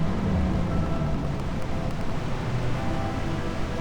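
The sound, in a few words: rain and storm in a video game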